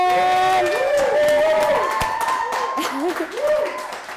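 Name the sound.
studio audience applause welcoming guest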